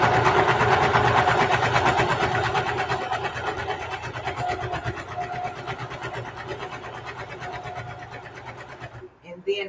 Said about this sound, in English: I'm just going to sew.